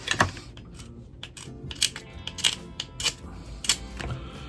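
Several sharp, brief scraping and clicking strokes of a knife blade against a hard plastic dip coating, close up, irregularly spaced over a quiet background.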